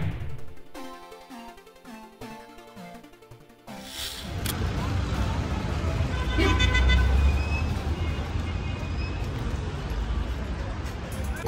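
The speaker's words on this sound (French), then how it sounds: "J'en peux plus des klaxons." Busy street traffic in Alexandria, Egypt, with a steady roar of vehicles and occasional car horns. Music plays at the start before the traffic noise takes over.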